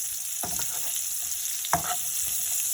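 Onion and jalapeno brown in a pan with a steady, bright sizzle, and a utensil scrapes and stirs twice, close up. No voices are heard.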